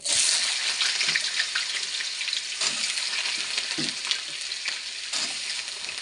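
Potatoes hit hot oil with whole spices, dried chili, bay leaves and cumin, giving a loud, steady sizzle with occasional clinks and scrapes of a spoon in the pan.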